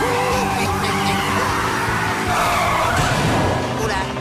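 A cartoon car skids and spins a full 360 degrees, a loud, sustained screech of tires with a rough engine-like rumble underneath, mixed with yelling voices throughout.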